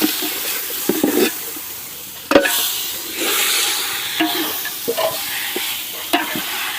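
Mutton and potatoes fry in a pan for potato mutton sukka, a close hissing sizzle broken by scraping stirs and a few sharp knocks.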